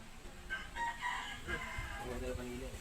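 A rooster crows a couple of times at moderate distance, its calls rising over low background noise and faint voices.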